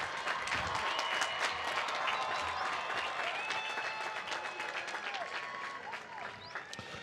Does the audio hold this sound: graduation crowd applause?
yes